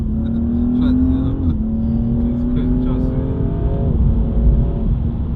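A BMW M3's engine runs in race mode with a deep, steady drone whose pitch rises and then dips around two short blips of revving, loud and close, with someone talking over it.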